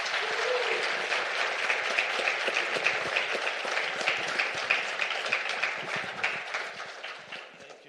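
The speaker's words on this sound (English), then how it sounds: "So please give them a round of applause." An audience at a competition law, economics and policy conference applauds a panel with dense, sustained clapping that holds steady, then gradually thins out toward the end.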